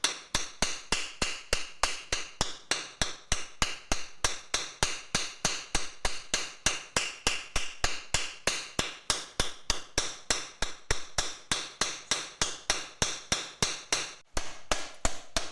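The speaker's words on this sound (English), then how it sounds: "So just keep hitting it, and it will soon crack." A hammer strikes a whole coconut over and over to crack it open, dozens of sharp, hard knocks in a fast, steady rhythm, close and clear with no talking.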